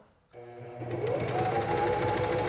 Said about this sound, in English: I'm going to push the pedal and sew.